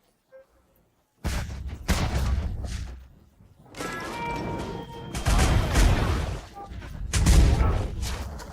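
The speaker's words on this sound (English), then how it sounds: "Anti-siege with 3 cannon shots, we destroy a catapult." Cannon shots smashing a siege catapult in the strategy game Age of Empires 4: several loud, booming blasts with crunching impact debris, each followed by a rumbling tail, arriving in a few spaced bursts.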